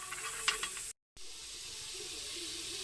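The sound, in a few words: margarine sizzling in a pan for shrimp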